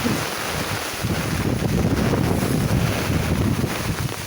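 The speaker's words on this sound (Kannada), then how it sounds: "ಗಾಯ್ಸ್ ಗಾಳಿ ನೋಡಿ" Strong gusty wind blowing outdoors during rain, buffeting the microphone with a continuous low roar that swells slightly midway, with no talking.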